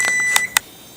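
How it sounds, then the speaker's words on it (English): An oven beeping during its self-clean cycle: three short, high electronic beeps in quick succession over a steady background hum, fairly near and heard alone. "I don't know how long I can handle that beeping though"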